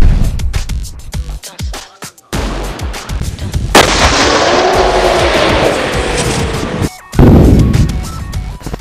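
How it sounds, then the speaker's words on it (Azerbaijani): Controlled detonation of unexploded ordnance: a single powerful blast erupts partway through, followed by a long, rolling rumble that fades out, then a sharp loud jolt near the end. "bir dəqiqə ərzində partlayış həyata keçiriləcək"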